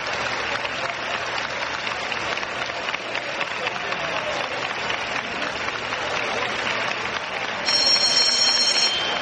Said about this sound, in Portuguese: Aplaudido pelos componentes da Frente Liberal